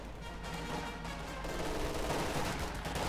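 Machine gun fire in a Company of Heroes 2 battle, a dense, continuous crackle of gunfire and battle noise that holds steady and grows slightly heavier partway through, with no voices.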